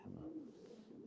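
Pigeons cooing nearby, a soft low coo rising and falling over about a second against quiet background.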